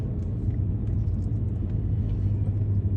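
A car climbs a mountain road near Beverly Hills, California, heard from inside as a steady low engine and road rumble throughout with no voices.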